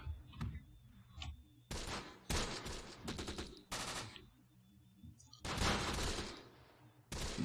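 Gunfire in the war game Close Combat: The Bloody First, sharp bursts of rifle and machine-gun shots in uneven clusters, some rattling runs and some single cracks, fairly close, with quiet gaps between.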